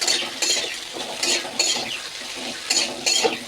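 Bitter gourd and pumpkin fry in a pan while a utensil stirs them in repeated scraping strokes, with metallic clinks over a soft sizzle.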